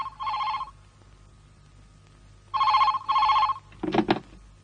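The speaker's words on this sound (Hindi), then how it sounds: "जब से फोन बज रहा है वो उठाने वाला नहीं है।" Trilling bursts from a ringing telephone come in three loud rings, one followed by a pause and then two close together, before a short clatter at the end.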